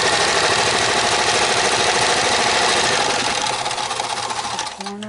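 A sewing machine stitches a face mask made without elastic in one steady, continuous run, close and loud, slowing slightly near the end before a brief drop.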